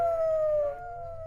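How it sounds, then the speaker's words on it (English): A police siren sound effect plays as a single clear wail that slides slowly downward in pitch, heard alone for about a second with no talk. "Sounded like a police siren."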